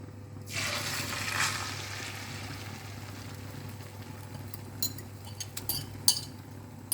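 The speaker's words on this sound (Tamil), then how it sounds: "இப்போ அடுத்து இந்த முட்டையை பொரிச்சிக்கலாம்" Egg frying in oil in a pan, a steady soft sizzle throughout with a few light metallic clinks of a utensil toward the end; no speech.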